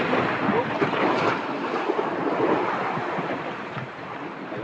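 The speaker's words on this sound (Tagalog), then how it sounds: "Malaki pa rin ang alon dito sa huli." A steady roar of rough sea and crashing surf, broad and windy, with no clear pauses between the waves.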